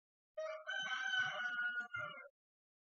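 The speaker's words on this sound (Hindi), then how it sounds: "मुर्गे भी पीछे आवाज कर रहे हैं" A rooster crows once in a long harmonic cock-a-doodle-doo behind a classroom lecture on beam bending, clear and fairly close, ending with a short final note.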